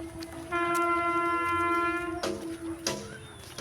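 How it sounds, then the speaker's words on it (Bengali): A train at an outdoor spot sounds two long tonal horn blasts as it sets off, the first sustained and the second following after a short gap, over light background rumble. "তো ওখানে ট্রেনটা চালু হয়ে গেছে, সিগন্যাল পেয়ে গেছে, তো ট্রেন এবার যাচ্ছে"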